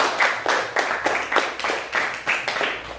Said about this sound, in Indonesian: Bagus sekali, beri tepuk tangan.